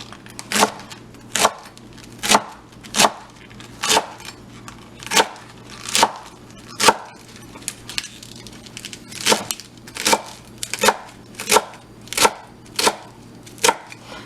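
A knife slices collard greens thinly on a wooden board in a steady, even rhythm of crisp, close chops, about one each half second, with no voices.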